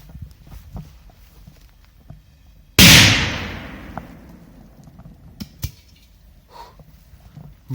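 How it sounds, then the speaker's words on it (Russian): A Maxim 5-2000 firecracker goes off under a kettle lid with a single sharp, loud blast that decays over about a second, set against quiet outdoor background with faint rustles before and after. "Кстати, давайте накроем вот так крышечкой. Будет двойной взрыв."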